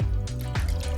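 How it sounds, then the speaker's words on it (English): Milk is poured into a bowl for steamed bun dough, a close liquid splash and gurgle with a couple of glugging pulses over about a second. "pour in the milk"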